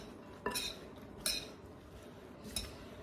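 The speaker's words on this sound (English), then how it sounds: "Give it a good mix." Salad being tossed with utensils in a bowl gives three separate clattering bursts of metal on dish, close but quiet, spaced about a second apart with soft rustling between them.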